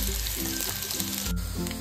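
Chopped onion sautés in hot oil, giving a close, continuous sizzle with light stirring taps, quiet overall.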